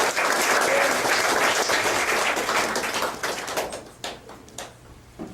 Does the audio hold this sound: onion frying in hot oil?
no